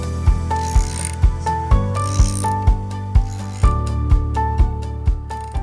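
A Reed PVC/PE pipe drilling machine clicks in a regular ratcheting rhythm as its boring bar is advanced toward the pipe, with sharp mechanical ticks roughly every half second over a faint tonal whine, close and clear.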